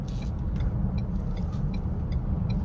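A 2023 Ford Edge ST on the move, with a steady low engine and road rumble heard from inside the cabin and a faint rhythmic ticking above it, continuous and fairly loud.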